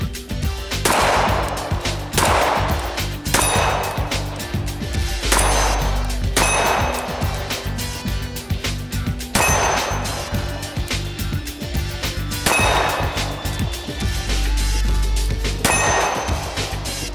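Gunshots strike steel targets at a shooting range, each loud crack followed by a metallic clang that rings out, spaced about every one to two seconds across the stretch.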